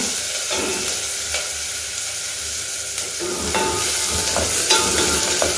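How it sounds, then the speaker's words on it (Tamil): Onions sizzle and crackle steadily in hot oil for a jackfruit kurma, with occasional scraping stirs in the pan, close and fairly loud. "இந்த வெங்காயம் கொஞ்சம் நல்லா வதங்கிடட்டும்."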